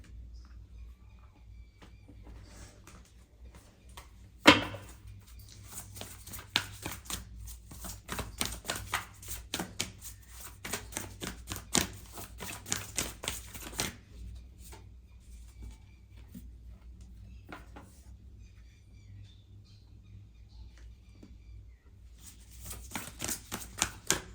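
Tarot cards handled and shuffled at close range, a long run of rapid soft riffling and flicking with one sharp knock near the start and brief quiet pauses.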